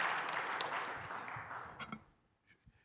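A conference audience in a room applauds Antoine with a short burst of clapping. It fades out over about two seconds, and a few scattered claps remain at the end.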